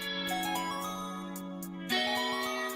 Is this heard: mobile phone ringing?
yes